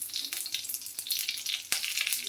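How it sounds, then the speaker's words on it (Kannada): Mustard seeds, cumin, curry leaves and dry chillies frying in hot oil for a shenga chutney tempering, a steady close sizzle with scattered sharp crackles and pops, no voices. "ನೀಟಾಗಿ ಫ್ರೈ ಮಾಡೋಣ."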